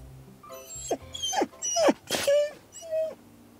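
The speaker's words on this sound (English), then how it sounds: "Bark." A dog gives a series of short whimpering yips and moaning barks, about five rising cries spaced across a few seconds, close and fairly clear.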